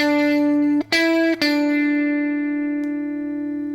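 An electric guitar plays a major pentatonic lick with hammer-ons, a few clear sustained notes with quick articulations, then a long ringing note that slowly fades, heard alone and up close.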